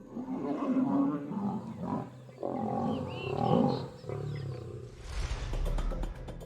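A lion roars loudly and at length in the wild, with deep, rumbling bursts that swell and fade over several seconds and close to the listener, and no talking can be heard.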